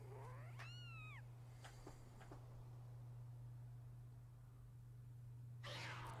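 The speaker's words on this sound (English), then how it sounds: "Oh, it's the cute little cat." A small cat in Legend of Zelda Skyward Sword HD gives one rising-and-falling meow, followed by a couple of faint clicks, then near silence over a steady hum and a short noisy burst at the end.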